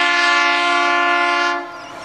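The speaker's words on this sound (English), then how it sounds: "It was fitted with a very loud and distinctive horn" A very loud, distinctive horn on the EM100 track evaluation train in Melbourne gives one long, steady, close blast lasting nearly two seconds, then drops away abruptly.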